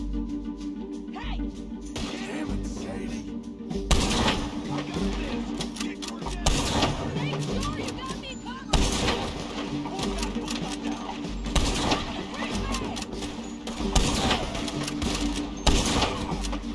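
Gunfire in the Western video game Red Dead Redemption 2: several loud, sharp shots spaced a few seconds apart over dense game ambience, with voices speaking throughout.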